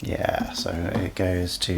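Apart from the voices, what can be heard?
None of the usual background noises is heard.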